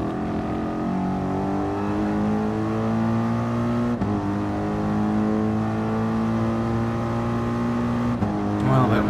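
Engine of a 2013 Mercedes SLS AMG GT3 race car in Gran Turismo Sport, a loud sustained high revving drone with climbing gear-shift tones and brief breaks between gears, constant throughout.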